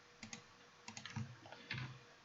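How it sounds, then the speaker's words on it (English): Quiet typing on a computer keyboard while entering text in a GUI programming lesson: sparse clusters of soft key clicks in short irregular bursts, faint and close, with no talk. "And here I type all of it."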